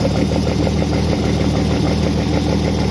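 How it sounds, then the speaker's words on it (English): A Healey works replica engine fitted with triple Weber carburetors runs steadily at a close, loud idle with a throbbing low rumble, no voices present. "we're just going to do a bit of a start-up. Those beautiful triple Weber"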